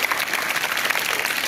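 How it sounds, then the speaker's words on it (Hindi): Steady, loud applause from a school class audience cheering a teacher who gave prizes to her class's four position-holder students at a Delhi government school award event, continuous clapping throughout. "जोरदार तालियां"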